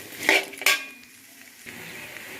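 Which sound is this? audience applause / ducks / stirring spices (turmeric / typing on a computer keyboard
stirring spices (turmeric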